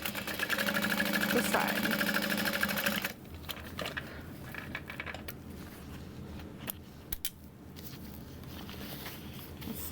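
A sewing machine stitches a side seam on a backpack with a fast, close mechanical whir for about three seconds, then stops, leaving quieter fabric handling and a brief spoken phrase.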